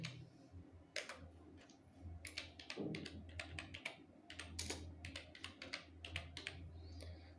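Typing on a computer keyboard to enter a name, close, quiet key clicks in quick irregular bursts with short pauses.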